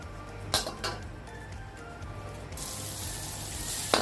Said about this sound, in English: I fried the rice with butter.